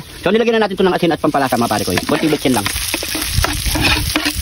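Garlic fried rice (sinangag) with salt and seasoning sizzling and being stirred in a hot pan, a loud continuous frying hiss under someone talking throughout.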